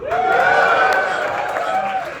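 A concert audience at the Bowery Ballroom in New York answers a comedian's applause vote with a loud, sustained roar of cheering and clapping that fills the room at close range.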